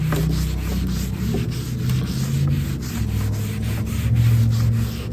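Rust is scrubbed off an old hand saw blade with brisk, rhythmic back-and-forth rubbing strokes, close up, making a continuous gritty abrasion.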